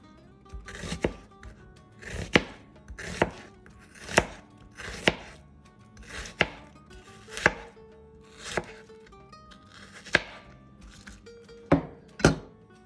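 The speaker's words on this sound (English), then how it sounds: "So we'll use these 4 onions and we'll cut them this way." A knife chops through onions for Moroccan couscous tfaya, about a dozen crisp, separate thunks on the board at a slow, steady pace, close and clear with no talking.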